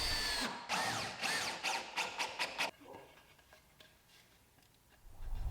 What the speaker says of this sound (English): I apply wood glue and screw things together. Here I switch to the Spax deck screws